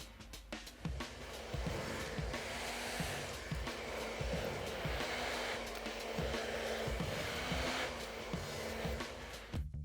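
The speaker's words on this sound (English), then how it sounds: "I'm gonna proceed to blow dry both sides." A hair dryer blows steadily on curly hair, its loud, continuous whoosh rising and dipping slightly as it moves, with faint clicks and handling noises underneath.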